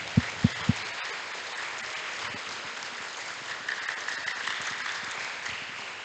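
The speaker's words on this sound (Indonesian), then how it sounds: "Kita berikan tepuk tangan dong." A school crowd at an SMK 2 Palopo safety riding event applauds the instructor with a steady, moderate wash of clapping, opened by three sharp nearby claps and swelling slightly toward the end.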